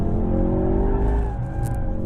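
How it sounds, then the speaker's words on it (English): A 2016 Ford Focus RS engine strains under load while tires squeal and scrub in a sustained slide, loud and close, with no talking. "you can really slide the car around quite nicely"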